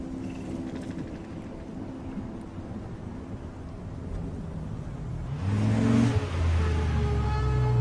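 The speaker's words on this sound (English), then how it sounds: "Thanks for the ride, Chloe" Car engine in the video game Life is Strange, a steady low drone of driving that swells into a louder revving hum with rising tones near the end, no talk.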